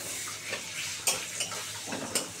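Half a tomato fries in a pan with already fried onions for a fish curry, giving a steady close sizzle with a few sharp stirring clinks of a utensil against the pan.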